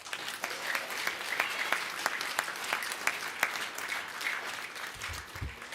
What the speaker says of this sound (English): So a loud round of applause for them right now.